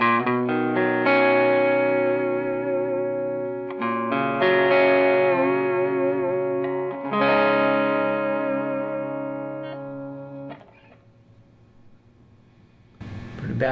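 Electric guitar played through an Eric Gales Brute Drive pedal with moderate gain and the tone knob rolled fully down gives dark, overdriven chords and bends, loud and up close, fading out before a final strum.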